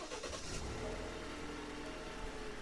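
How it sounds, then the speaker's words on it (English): An Alfa Romeo Stelvio, locked and started with a double press of the key fob's remote start button, brings its engine up to a close, steady idling rumble. "we'll press that button twice. Then the vehicle will lock and start."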